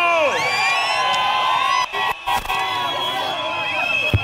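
A crowd at a Kenyan political rally cheers for its governor, a loud, continuous roar laced with whistles and shrill horn tones, briefly cutting out midway.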